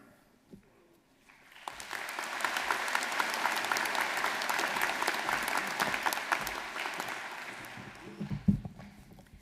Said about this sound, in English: Lots of clapping today.